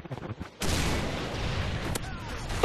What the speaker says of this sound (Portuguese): Olha lá meu predador explodindo, rapaz!